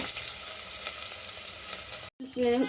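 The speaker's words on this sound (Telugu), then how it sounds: "ఇది మంచిగా రంగు మారేంత వరకు మనం ఫ్రై చేసుకుందాం" Ingredients for goat leg soup fry in a pan with a steady, dense sizzle close up, broken by a brief gap and a clatter of stirring at the end.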